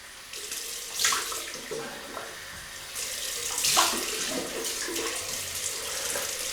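Water from a tap runs steadily for a cold rinse during a wet shave, a hissing stream with brief louder splashes as it hits the sink, close by with no talking.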